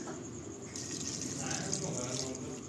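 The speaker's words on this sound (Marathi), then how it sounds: "2 तांबे पाणी घालणार आहोत." Water poured into a pressure cooker full of mixed vegetables for pav bhaji, a steady close splashing rush that runs without a break and swells slightly midway.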